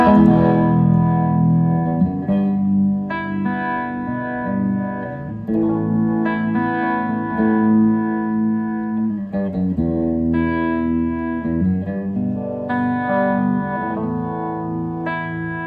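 Clean electric guitar chords ring out with a slow, gentle tremolo pulsing the volume, smooth and sustained with a touch of reverb.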